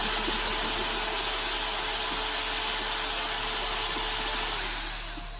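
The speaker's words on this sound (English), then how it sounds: "You do not need a power tool to do this. I just do it because I can't be bothered to stir." A power tool whirs steadily as it stirs yeast into a beer kit's malt extract wort, a loud constant buzzing drone that winds down near the end, with no talking.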